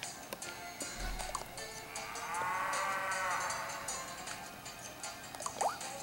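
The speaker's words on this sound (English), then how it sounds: "That sounds like a cow." A cow in the video game Miitopia lets out a drawn-out moo in the middle of the clip, moderately loud over quiet game background sounds and scattered small clicks, with no talking.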